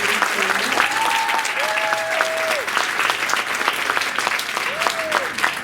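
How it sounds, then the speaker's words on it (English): Sustained audience applause for middle school students at a Langston Hughes oratorical contest, dense steady clapping from a crowd with a few faint whistles or cheers rising above it throughout. "another round of applause for all of our middle school students"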